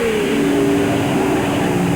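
A Maserati 250F race car runs flat out at Silverstone during a 2001 historic Formula 1 festival, its engine a loud, steady, close-up drone held at high revs.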